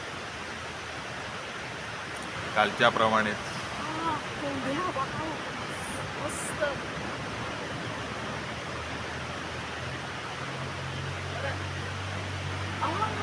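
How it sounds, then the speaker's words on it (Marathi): Steady broadband roar of large waves surging onto Navanagar beach at Harne, with brief voices and a low rumble near the end. "इथं लाटा उसळत आहेत छान प्रकारे"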